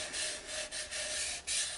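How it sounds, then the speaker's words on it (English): Hand sanding on a wooden redbud bowl: several steady, scratchy back-and-forth strokes, close and fairly loud, with brief pauses between passes. "So I'm just hand sanding it."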